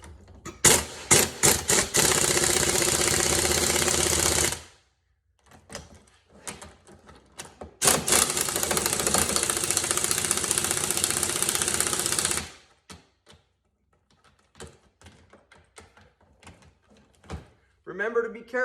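An air impact tool removes crank bearings from a Banshee crankshaft, firing in two long loud bursts of rapid hammering, each preceded by short triggers, with quieter clicks and a voice speaking between them.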